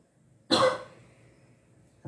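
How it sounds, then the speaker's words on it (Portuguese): A single sharp cough from a woman with a lingering tickle in her throat, loud and close, fading into a quiet room before a second cough starts at the very end. "eu ainda estou com um pouco de tosse"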